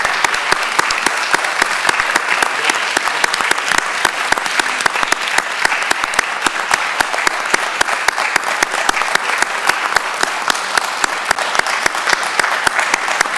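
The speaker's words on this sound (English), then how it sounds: "a round of applause for him, please." Sustained applause from an audience at a Rockdale County Board of Commissioners meeting, a steady dense patter of many hands clapping close by for the full stretch, with no talk over it.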